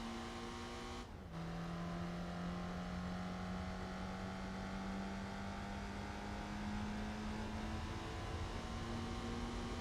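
Small British A-series engine of a K-car in Gran Turismo 4, droning steadily at constant revs after a quick shift down to second, a brief dip in the note, then a long even hum.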